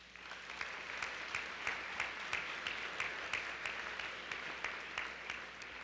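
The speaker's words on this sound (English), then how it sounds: "Let's give them a round of applause." An audience at the Sherman College 146th commencement ceremony claps steadily, the crowd's applause somewhat distant and faint, with individual claps pulsing in a regular rhythm throughout.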